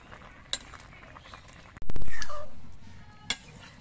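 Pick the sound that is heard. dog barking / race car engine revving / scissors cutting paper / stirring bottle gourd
stirring bottle gourd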